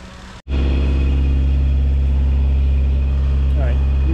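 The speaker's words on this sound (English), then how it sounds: "you may be able to hear the engine running" A small engine runs steadily after a fuel line repair, a loud continuous low drone that starts abruptly after a brief gap and holds evenly, with a faint voice in the background.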